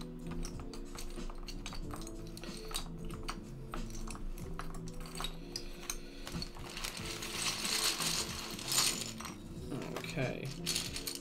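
Keycaps pressed and clicked onto a TMO50 mechanical keyboard fitted with Gat Ink Series switches, a steady run of small plastic snaps and clacks at close range, with a low background hum throughout.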